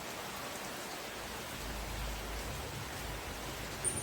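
Heavy, unexpected rain pours down in Jaffna, making a steady, dense hiss that stays even and fairly loud throughout, with no voices.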